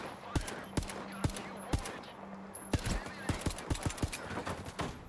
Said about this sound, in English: Fucker opened fire.